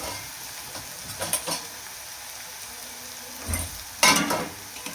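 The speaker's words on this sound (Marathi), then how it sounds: "आता आपल्याला हे कमी गॅसवरती छान परतून घ्यायचं." Green chilli and garlic sauté in oil over a low flame with a pinch of salt and turmeric, giving a steady soft sizzle with a few louder stirring scrapes and a brighter crackling burst near the end.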